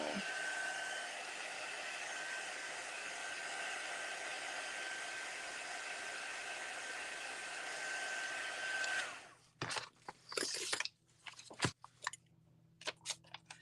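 A heat embossing tool blows a steady, loud hiss of hot air up close for about nine seconds, then cuts off, followed by scattered rustling and tapping sounds.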